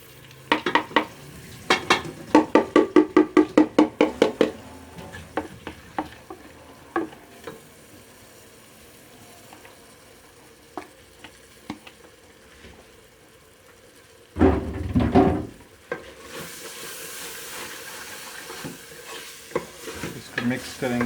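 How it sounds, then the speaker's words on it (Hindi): Moong dal is stirred into a pan of fried spices in a village-style kitchen, with a rapid burst of spoon clatter, a steady frying sizzle underneath, and a second loud stirring scrape later on; no one speaks. "अब इसमें हम दाल डाल देते हैं, मूंग की दाल।"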